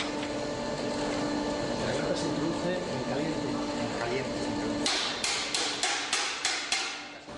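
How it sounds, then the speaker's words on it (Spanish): A blacksmith forges a Romanesque-style iron grille joined with clamps instead of welds. A dense metallic clatter runs under steady background noise, then a series of about six sharp, evenly spaced hammer strikes rings out near the end. "Está realizando una reja al modo románico, es decir, con abrazaderas que suplen a la soldadura que todavía no se había inventado"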